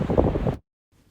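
Wind on a coastal path by the sea buffets the microphone in a loud, rumbling gust for about half a second, then cuts off into near silence with a faint trace after.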